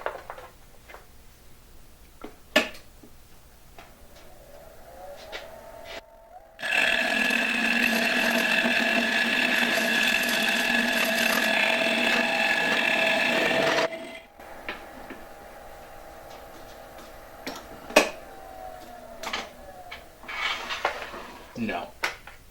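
A large, sharp Forstner bit boring into wood on a lathe makes a loud, steady grinding drone for about seven seconds, starting and stopping abruptly, with quieter workshop noise and a voice on either side.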